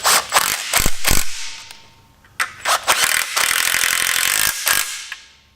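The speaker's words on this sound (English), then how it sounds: "I'm just going to run those in with the impact." A rattling impact wrench runs in the oil pan bolts on a 1960 Chevy Biscayne with an LS swap, several short loud bursts and a longer run, close up with brief pauses.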